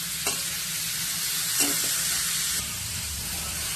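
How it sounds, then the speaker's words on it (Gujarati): Crushed cabbage sautés in a hot pan for a veggie frankie, producing a loud, continuous, hissing sizzle close by, with a couple of faint stirring knocks and no voices. "કોબીજની સ્મેલ જતી રહે ત્યાં સુધી આપણે સાંતળી લીધી છે"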